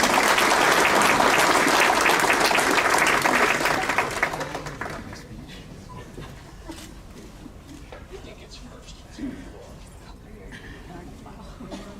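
An awards ceremony audience claps in loud, dense applause for about four seconds, then it fades away into a quieter room with scattered noises.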